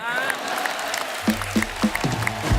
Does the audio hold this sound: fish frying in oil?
no